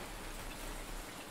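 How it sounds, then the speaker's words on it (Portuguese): Steady rain falls continuously as a sound effect in a nighttime audio story, a dense even hiss of drops on surfaces with no voices over it. "E a noite começou a chover e aqueles raios e relâmpagos."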